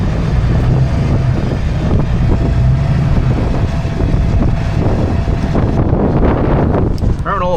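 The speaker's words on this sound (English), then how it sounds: "And it's quite breezy out today." Strong gusty wind blowing across an open farm field, a loud continuous roar buffeting the microphone, with a voice talking beneath it.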